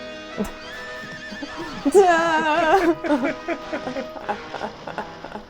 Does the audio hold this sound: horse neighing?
yes